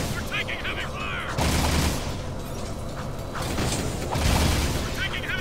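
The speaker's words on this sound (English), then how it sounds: "You're taking heavy fire!" Bursts of heavy gunfire and booming cannon shots in Jak and Daxter, loud clattering volleys at two points with mechanical ratcheting between, under game voices shouting orders.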